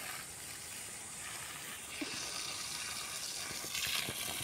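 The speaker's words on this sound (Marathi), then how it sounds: "इथे केळींना पाणी टाकतात आहेत" Water runs and splashes steadily onto banana plants outdoors, a soft continuous gush that grows slightly louder toward the end.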